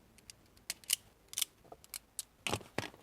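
Sharp snips cutting wire for an add-a-circuit fuse tap beneath the dash of a Nissan truck, several crisp separate clicks spaced irregularly, close and clear with no talking.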